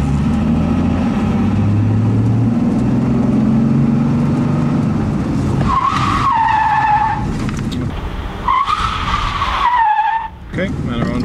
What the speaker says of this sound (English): now the car will start to slide to the left